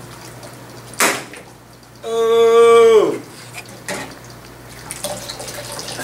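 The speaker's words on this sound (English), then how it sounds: "take the cans and flip them over and place them quickly into the tub of" Steam-filled cans flipped upside down into a tub of water for a chemistry can-crushing demonstration: a sharp splash-pop, a loud gurgling, falling squeal as a can collapses, then another pop, with a voice exclaiming.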